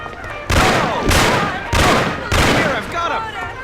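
Gunfire crackles in the Mafia video game as loud, dense bursts of shots repeat in four or five waves, with shouted voices mixed under the din.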